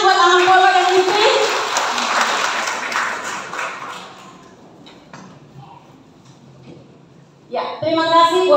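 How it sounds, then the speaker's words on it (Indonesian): Audience applause at an Indonesian church gathering, a dense burst of clapping that gradually fades out, then a voice speaking into a microphone at the end. "Sekali lagi kita berikan tepuk tangan buat Amang Paulus dan istri"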